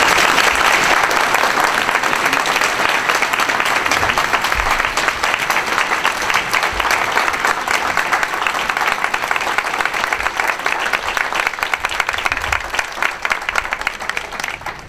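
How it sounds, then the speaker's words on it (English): A luncheon audience gives a sustained round of applause for Mayor Keisha Lance Bottoms of Atlanta, dense clapping that holds steady for the full stretch and tapers slightly toward the end. "If you all would join me in giving her a round of applause"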